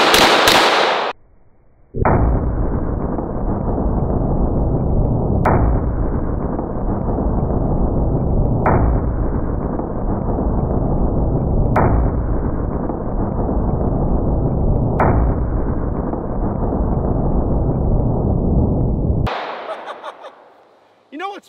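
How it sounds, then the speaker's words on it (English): A .460 Magnum revolver fires six heavy, evenly spaced booming shots, each a sharp crack followed by a long sustained roar, loud and close, ending with a brief fading tail. "stepping it up to the 460 Magnum"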